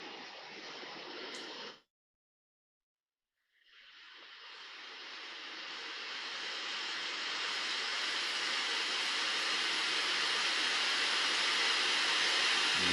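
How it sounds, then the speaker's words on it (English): Steady airliner cabin noise plays as a tinnitus-relief sound. It is a broad, even roar that swells gradually to a constant level after a brief, different hiss and a short silence. "it's kind of like just a noise, like in an airliner"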